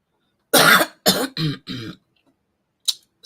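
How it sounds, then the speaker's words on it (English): A run of four harsh coughs and throat-clearing bursts, close and loud, followed by a short faint rasp after a pause. "I'm still coughing and everything."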